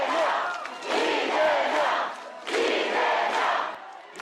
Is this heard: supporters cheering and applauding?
yes